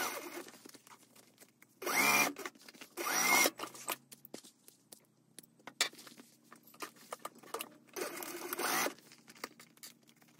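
A sewing machine stitches closed the edges of a Carbon Chic Hugo handbag, running in three short, loud bursts with quiet fabric handling and rustling in between.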